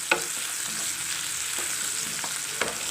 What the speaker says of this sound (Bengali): তেলটা গরম হয়ে গেছে, একটা কেটে রাখা পেঁয়াজের টুকরো দিয়ে দিলাম।